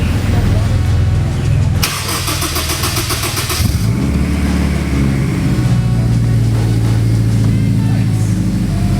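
A turbocharged Honda S2000 engine cold-starts with a short burst of cranking and catches into a loud, rough idle that settles into a steady drone, close by.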